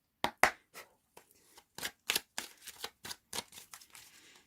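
Tarot cards being shuffled by hand before a reading, a run of crisp riffling and slapping bursts that come in quick, irregular clusters, close and fairly quiet with no talking.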